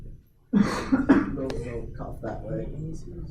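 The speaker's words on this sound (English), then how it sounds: "Cough that way. Cough in that direction." A single sharp cough breaks a quiet room, followed by someone speaking in a lecture setting during an exam review.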